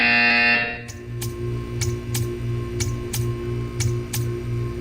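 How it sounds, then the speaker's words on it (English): A buzzer sounds in Portal 2 with a loud opening blast, then a series of sharp, regularly spaced ticks or pulses over a steady low hum. "You will hear a buzzer."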